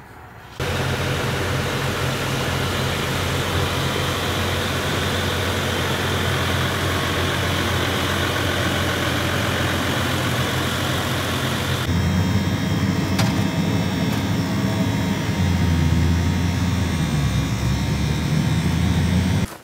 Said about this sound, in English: So we're gonna hop in this tractor,